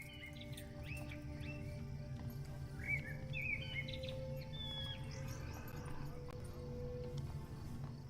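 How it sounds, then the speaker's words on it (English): Skylark song in The Lord of the Rings Online, set in the Breeland countryside: several bright chirping and trilling phrases over a steady low ambient bed, with faint clip-clop of hooves, moderately near. "The skylark is a tree bird, subclass perching, type lark, found in Breeland."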